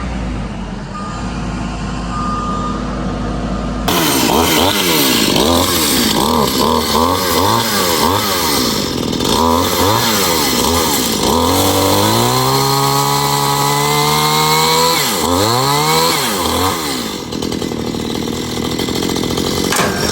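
A chainsaw engine revs loudly up and down again and again while cutting down trees, close and continuous, with a vehicle's reversing beeps in the background.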